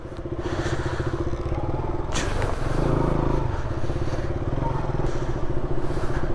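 A motorcycle on a long ride from Delhi to Kanyakumari, its engine droning steadily and close throughout, with wind rush and a couple of brief clattering thumps along the road.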